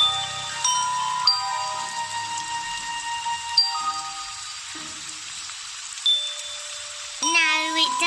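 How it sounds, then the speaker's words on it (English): A melody rung on bells at a palace door: a series of bright chiming notes, each ringing out and sustaining over a soft background bed, ending with a quick rising flourish. "She needs to ring the melody on bells."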